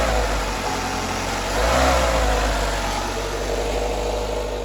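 Renault Megane Coupé 1.6 16v engine held at raised revs with a standard exhaust, a steady close mechanical drone that swells briefly midway and then stays high, no voices over it.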